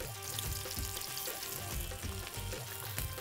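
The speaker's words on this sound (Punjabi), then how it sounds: "ਸਰੋਂ ਦੇ ਤੇਲ ਵਿੱਚ ਪਤੌੜ ਤਲੇ ਜਾ ਰਹੇ ਨੇ" Arbi (taro) leaf pakodas frying in hot mustard oil in a Punjabi kitchen give a steady, close, loud sizzle with crackling bubbles throughout, and no one speaks.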